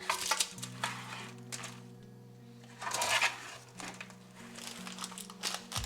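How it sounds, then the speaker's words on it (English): Baked granola stirred and turned on an oven tray, with dry crunchy scraping and rustling in bursts, a louder clattering scrape near the middle, and a steady low hum beneath. "And so now I'm gonna just mix it through so it can cook evenly everywhere."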